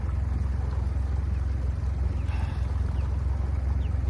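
A motorboat idles on a lake, its low engine rumble steady and continuous throughout, with faint water and wind noise above it and no talking.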